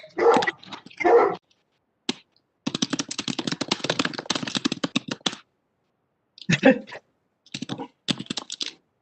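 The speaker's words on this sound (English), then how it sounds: "that sounds like a very large dog" A very large dog barks in loud bursts at the start and again near the end, with stretches of rapid keyboard typing in between and no one talking over it.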